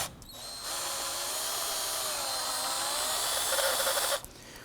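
A power tool with a 10mm socket spins a nut loose during a transmission mount job on a 2008-2011 Ford Focus, making one steady, close, high-pitched whirring run of about three and a half seconds that stops abruptly.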